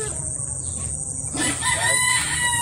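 Chickens and a rooster on a farm: clucking under a steady background hum, then a rooster crows clearly partway through, fairly near, without talk.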